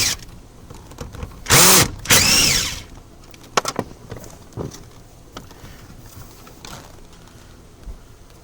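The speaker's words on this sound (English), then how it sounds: "We're going to want to remove the 7mm screws holding the diagnostic plug." A power drill backs out the 7mm screws holding the diagnostic plug on a 2008-2010 Ford Super Duty truck, giving two loud close whirring bursts followed by quieter clicks and handling noises.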